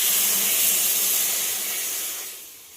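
Water poured into a hot pan of mustard fish curry, sending up a loud, close, steady hiss of sizzling steam that gradually fades over a few seconds.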